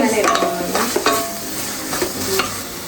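Tomatoes sauté in a pressure cooker for chicken biryani, giving a steady close sizzle with repeated spoon scrapes and stirring strokes throughout, and no talking.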